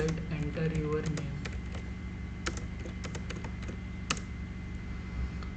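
Rapid typing on a computer keyboard while writing code, quick clicks scattered over a low steady hum, with a voice talking briefly at the start.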